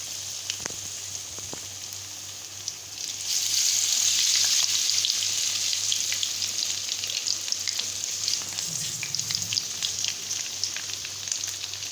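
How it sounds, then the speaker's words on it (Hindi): Club sandwich frying in hot oil in a pan makes a close, continuous crackling sizzle that swells louder after a few seconds and holds steady, with scattered pops. "ऑयल जब गरम हो जाएगा फिर हम सैंडविच को फ्राई करना स्टार्ट करेंगे"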